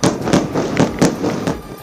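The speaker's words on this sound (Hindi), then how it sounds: "जिसमें कई तेज धमाके होते दिखाई दिए" Repeated booming explosions from Israeli strikes on Hezbollah positions in Lebanon, a rapid series of heavy thuds about every quarter second, loud and rumbling.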